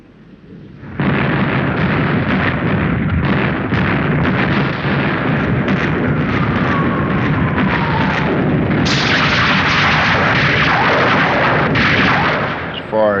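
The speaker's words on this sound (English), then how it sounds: "After a massive air assault, a devastating naval bombardment." Naval bombardment off the French coast in 1944, with warship turrets firing shell after shell: a loud, dense, continuous roar of overlapping booms and blasts that surges from the first second and holds steady, then grows harsher near the end.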